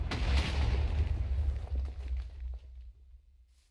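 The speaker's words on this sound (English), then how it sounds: "Did you guys hear that explosion?" An explosion in the survival game Technofirma: a deep, rumbling boom dominates at first, then gradually dies away into quiet over a few seconds, with no voices.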